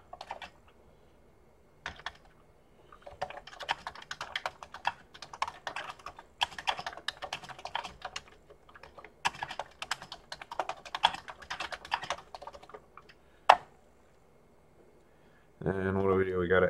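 Clattering keystrokes on a Commodore 64 keyboard while an email is written, irregular bursts of close typing with brief pauses, ending in a short louder patch of other sound.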